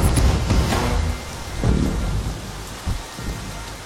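A thunderstorm in a film scene: dense, steady rain pours throughout while low rumbles of thunder swell and roll at intervals, loud and close, with no voices.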